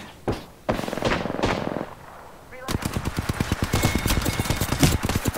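Rapid automatic gunfire in the Apex Legends video game, a few separate bursts and then a sustained run of loud, close shots in quick rhythm, with faint voices in the mix.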